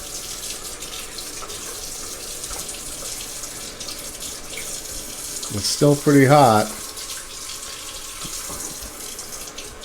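Water runs steadily from a Delta faucet in a continuous hissing stream, with a short spoken remark over the flow midway.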